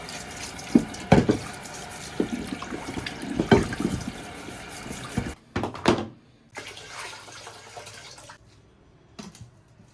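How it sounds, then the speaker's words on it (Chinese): A lobster being rinsed and scrubbed under a running kitchen tap, with water splashing and hissing close by, broken by clattering handling knocks before the flow thins to a quieter trickle; no one speaks. "先把这个龙虾洗一下，"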